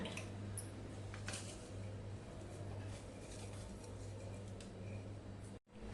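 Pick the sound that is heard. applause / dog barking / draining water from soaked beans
draining water from soaked beans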